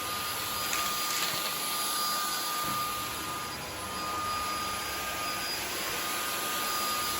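A Samsung Jet 90 cordless stick vacuum with soft roller hums steadily on a hardwood floor, a constant airy motor whine with a thin high tone, brief dip in level midway, no voices.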